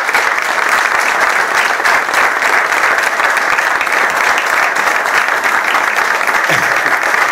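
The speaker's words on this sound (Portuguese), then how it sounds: "peço uma salva de palmas" An audience at a mandolin orchestra's 100th anniversary celebration on Madeira bursts into sustained, loud applause, thick and even from start to finish, with a faint voice briefly audible near the end.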